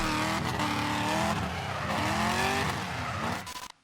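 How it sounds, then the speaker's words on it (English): Drift cars in a DMEC 2021 competition round at Greinbach, Austria, launch and slide: loud, sustained engine roar with shifting revs and tire squeal for several seconds, then cutting off abruptly. "Car goes in gear, handbrake held, and the light goes green."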